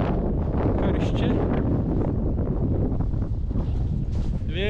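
Cold wind blows outdoors in a village near a church and cemetery, buffeting the microphone with a continuous low rumble while a person talks over it.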